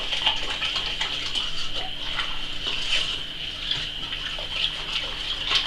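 Boiled water pours into a plastic bucket of leftover-wine must, a steady close gushing stream with small splashes that stays at an even level throughout.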